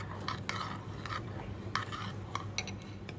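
Milk is stirred into a bread pudding mixture in a bowl, with a spoon scraping and clinking against the sides in a steady run of soft strokes. Nobody speaks, and a low hum sits underneath.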